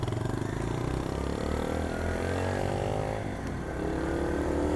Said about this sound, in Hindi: तो व्यूअर्स मैंने सोचा कि ज़रा इसकी राइड CD70 की करूं